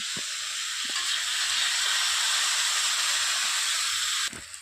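Bitter gourd and potato frying in a pan, a steady close sizzle and hiss of hot oil running without a break, with a couple of faint stirring knocks.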